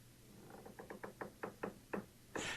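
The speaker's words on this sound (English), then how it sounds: "That was a door creak." An old 1970s-style chair creaks in a quick series of short squeaky pulses, quiet and close, like a slowly opening door, ending in a brief louder rustle.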